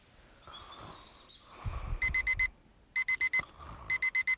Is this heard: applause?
no